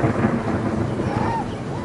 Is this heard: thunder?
yes